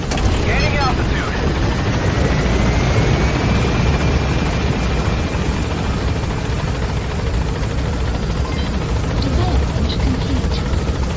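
Helicopter in Metal Gear Solid V: The Phantom Pain gaining altitude: a steady, loud rotor and engine roar throughout, with a brief voice speaking over it.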